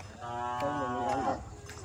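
A cow moos once in a long, loud, drawn-out call from a farm pen in a rural Vietnamese village garden, close by with no talk over it.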